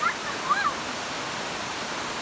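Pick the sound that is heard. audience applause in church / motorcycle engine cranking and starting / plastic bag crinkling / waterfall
waterfall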